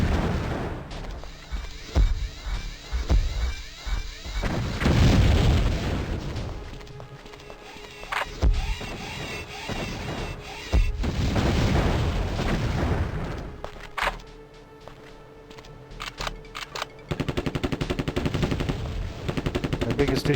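Repeated gunfire and heavy booming blasts of a grenade launcher firing in the video game Terminator: Future Shock, loud and close, with bursts of rapid shots and explosive thumps over a rumbling game backdrop.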